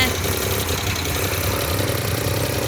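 A Maruti Suzuki 800 engine runs at idle, a steady, close rumbling hum with a slightly uneven low throb that carries evenly throughout.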